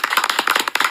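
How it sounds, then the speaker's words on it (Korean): A studio audience and hosts on a Korean talk show clap to welcome a guest, a dense burst of close handclaps lasting about a second with no talking. "박수로 맞이합니다."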